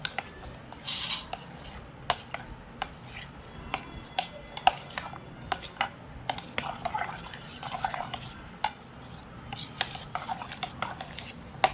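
Banana is stirred into fruit custard in a bowl, with repeated close scraping and clinking of a spoon against the dish throughout, steady and fairly quiet, no voices.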